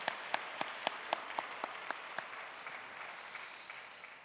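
Applause from a church congregation at a joint worship gathering, with a clear rhythmic clap pattern early that melts into softer, fading clapping, fairly faint and roomy.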